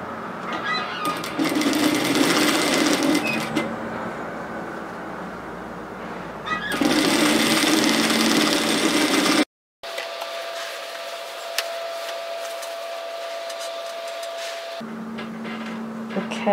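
A home sewing machine runs a 1 cm seam on a Briar Robe, humming and whirring in two sustained bursts, followed by quieter handling and a brief steady tone.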